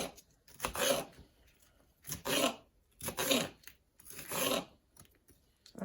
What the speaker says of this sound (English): I don't like the sound of this against the cutting board